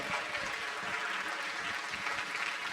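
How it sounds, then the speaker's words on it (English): Audience applause at an international law and multilateralism panel, honouring Professor Tommy Koh: steady, dense clapping from a sizable crowd that holds at an even level throughout, with no voices over it. "Let's give Professor Tommy Koh a big round of applause, ladies and gentlemen."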